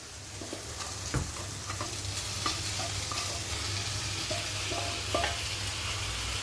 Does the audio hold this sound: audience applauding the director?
no